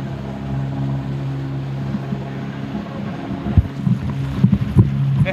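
A sailing boat under way on open water, with a steady low rumble of wind and hull noise, broken by scattered knocks and thumps from the deck and rigging near the end.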